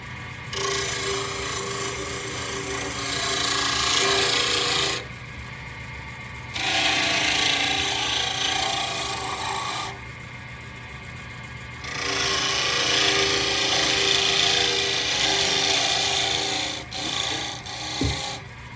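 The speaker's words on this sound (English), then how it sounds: "I'm going to use a smoothing tool to get it right down to the bushing" A smoothing tool scrapes against a wooden pen blank on a spinning lathe in long rasping passes, with short pauses between them, steady and close.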